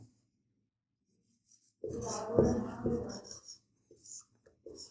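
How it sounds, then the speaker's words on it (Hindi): A pen or marker writes out the statement of Pythagoras' theorem during a Class 10 maths lesson, with scratchy strokes following a short stretch of voice. "इसका कथन लिखते हैं।"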